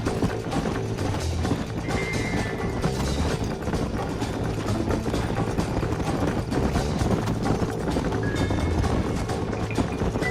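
Horse hooves gallop steadily through Red Dead Redemption 2 gameplay, a continuous rhythmic pounding buried in a dense, loud wash of game music and ambience with no clear breaks.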